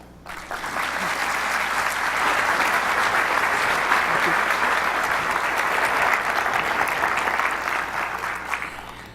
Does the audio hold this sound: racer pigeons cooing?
no